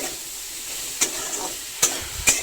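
Steady frying sizzle of raw banana in a pan, with a few sharp clinks and scrapes of stirring against the metal.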